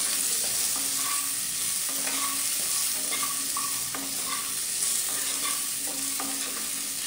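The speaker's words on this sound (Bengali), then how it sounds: "সোনালি রং ধরা পর্যন্ত কপিগুলোকে আমি ভেজে নেব।" Cauliflower florets fry in oil in a pan with salt and a pinch of turmeric, a dense continuous sizzle with rhythmic stirring knocks and scrapes of the spatula, close and steady, no talking.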